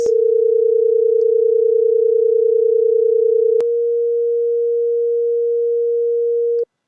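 Two steady pure sine test tones near 455 and 470 Hz, loud and continuous, the pitch shifting slightly midway before the sound cuts off cleanly.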